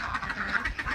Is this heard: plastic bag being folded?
no